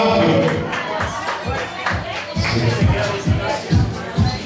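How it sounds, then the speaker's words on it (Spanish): Audience applause and cheering at a karaoke bar during a national karaoke championship heat, with dense clapping that swells and fades under crowd murmur and voices nearby. "un aplauso para el amigo aquí en Etis Bar Karaoke"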